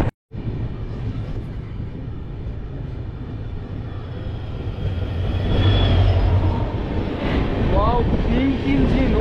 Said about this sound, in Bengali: এবার আমাদের ট্রেনের সাথে ক্রসিং হবে শ্রী গঙ্গানগর জংশন থেকে ঋষিকেশগামী 14815 ঋষিকেশ ইন্টারসিটি এক্সপ্রেস।